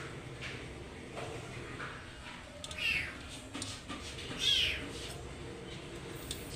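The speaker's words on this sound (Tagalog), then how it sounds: "So malaking pusa." A large cat meows twice, faint and somewhat distant, before being fed, over a rustling background with low, indistinct talk.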